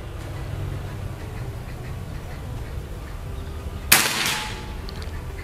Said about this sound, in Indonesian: Sekarang tembakan yang keempat